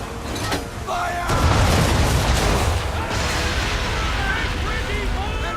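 Cannons fire in volley in the Assassin's Creed 3 video game, a heavy boom followed by rumbling battlefield noise, with shouted commands over it.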